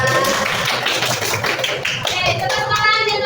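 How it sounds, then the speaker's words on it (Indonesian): A class of students claps in a classroom, with uneven rhythmic hand claps that mix with voices and some tonal background noise. "tepuk tangan."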